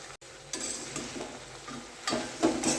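Grated cabbage being mixed and sautéed in a pan, with chana dal in the dish: quiet sizzling, then bursts of scraping and rustling as a spoon turns the shreds, growing louder near the end.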